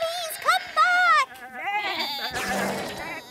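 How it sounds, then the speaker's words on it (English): A couple of wavering, high-pitched bleats come in quick succession, followed by livelier voices and bustle. "Come back, sheep."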